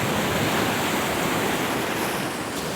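Sea waves wash steadily near Portheras Cove on the Cornish coast, a continuous broad rushing roar heard from a clifftop path, even and unbroken with no voices.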